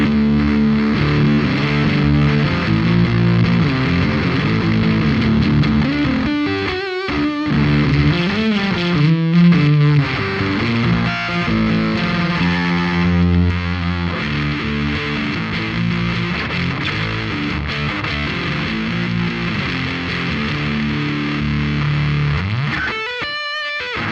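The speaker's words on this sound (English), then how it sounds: "not every distortion sound that you're hearing right now sounds that great on its own" Electric guitar played through a Fuzzsimp FX Muzzsimp fuzz distortion pedal, with thick, saturated chords and sustained notes ringing loudly and continuously, broken by a few short pauses and a final strum.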